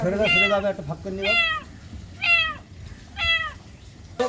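A kitten just rescued from a drain meows loudly and close by, about five distinct, evenly spaced cries, each rising then falling.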